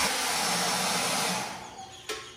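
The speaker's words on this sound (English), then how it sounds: "So we're gonna use a hairdryer." A hair dryer blows with a steady whooshing hum up close, then fades as it is switched off, followed by a brief click.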